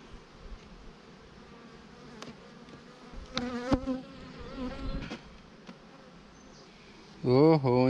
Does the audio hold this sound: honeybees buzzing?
yes